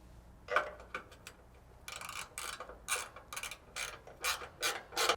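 Bolts being threaded by hand into a vehicle frame during a Blitz slider install on a GX460, giving a series of small metallic clicks and ratcheting ticks, close and fairly quiet, growing more regular toward the end.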